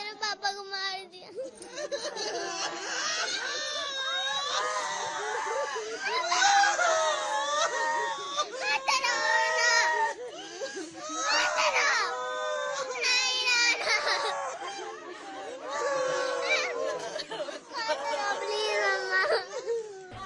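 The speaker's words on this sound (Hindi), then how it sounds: "जम्मू कश्मीर में ये चीखें बड़गाम और गांदरबल से उठी हैं" Families of terror attack victims in Budgam and Ganderbal, Jammu and Kashmir, scream and cry. High, loud wailing and sobbing from several voices, including children, runs without a break, with anguished cries rising and falling.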